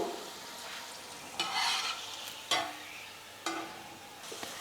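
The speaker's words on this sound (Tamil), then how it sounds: "இதே போல் மீதி இருக்கிற எல்லா உருளைக்கிழங்குமே நம்ம வந்து எண்ணெயில் போட்டு ஃப்ரை பண்ணி எடுத்துடலாம்." Potato and egg snack frying in hot oil, a soft steady sizzle broken by a few sharper bursts as pieces are stirred or dropped in, fairly quiet with no voices.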